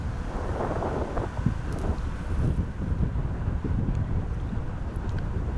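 Strong wind buffets the microphone on an outdoor disc golf course at a professional tournament, a steady low rumbling roar lasting throughout with no talk.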